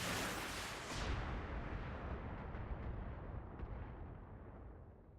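Heavy mech weapons fire in the BattleTech video game: a loud booming blast at the start, then another burst of explosive impacts about a second in, with rumbling fire and debris decaying slowly into the distance.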